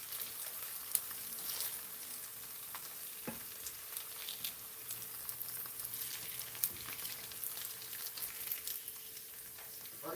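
Garlic and onion frying in a pan give a steady, close sizzle and crackle with occasional soft stirring clicks, no voices.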